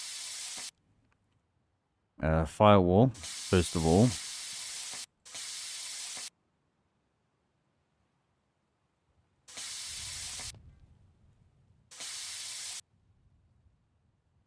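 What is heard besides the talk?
plasma cutter cutting a car firewall in the video game My Garage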